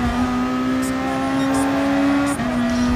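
Lexus race car in Gran Turismo Sport on a Japanese GT championship circuit, its engine holding a steady loud drone with a brief dip in pitch near the end, like a quick shift, and faint tire noise over it.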